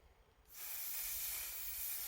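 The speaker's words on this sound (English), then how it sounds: "So I'm going to spray this from the top" Spray paint from an aerosol can dusted from above onto a gothic ruin terrain model outdoors: a sudden, loud, steady hiss that starts after a quiet half-second and holds to the end.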